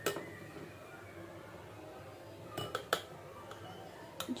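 A spoon moves soaked gulab jamun into a serving bowl, making a few sharp, quiet metallic clinks in a cluster near the end against a faint, still room.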